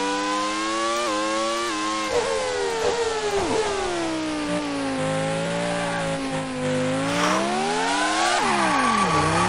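Simulated Formula One race car engine from the 1996 PC racing game Grand Prix 2, a steady high-pitched whine rising and falling through gear changes and revs, loud and continuous with no talking.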